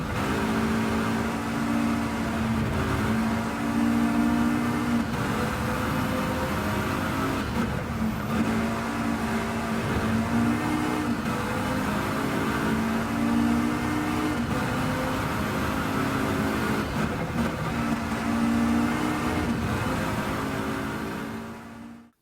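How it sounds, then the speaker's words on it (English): Tuned five-cylinder engine of a front-wheel-drive car in Gran Turismo 7, a steady droning engine note held at high revs throughout with slight rises and dips, continuous and alone without speech. "it still sounds like a 5-cylinder engine, but with slightly more kick than the stock engine sound"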